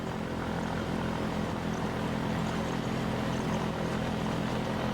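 Steady propeller drone of an ultralight airplane engine at a small runway, loud and continuous throughout with no pauses and no voices.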